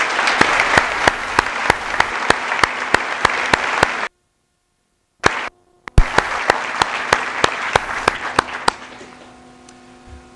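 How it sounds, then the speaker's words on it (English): A graduation audience at an 8th grade promotion ceremony claps loudly and steadily, the sustained applause cutting out briefly midway before resuming strongly and tapering off toward the end. "can we give them another round of applause?"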